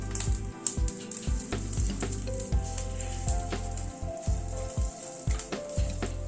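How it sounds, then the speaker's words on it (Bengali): Whole spices tempering in a spoonful of white oil over a low gas flame, crackling and popping close up in sharp irregular bursts over a steady sizzle. "গ্যাসের ফ্লেমটাকে কমিয়ে দিয়ে ফোড়নটাকে একটু ক্র্যাক করিয়ে নিচ্ছি।"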